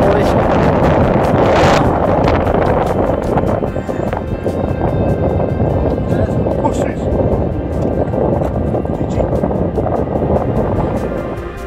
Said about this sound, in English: Been windy up here